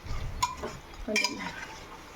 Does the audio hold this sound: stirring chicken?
yes